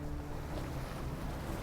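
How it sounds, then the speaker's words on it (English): Strong wind blows over open water aboard a fishing boat off Florida: a steady, fairly quiet broadband rush with a low rumble and no voices. "the first thing is this brutal wind"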